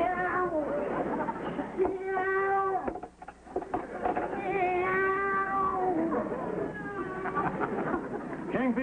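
A cat meows repeatedly in a domestic apartment setting, drawn-out wavering cries rising and falling over several seconds, fairly close and loud, with a brief pause midway.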